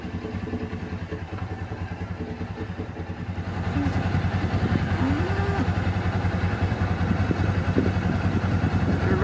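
A tractor engine's steady low rumble idles throughout on a farm pasture, growing louder and closer partway through, with a clattering mechanical chug.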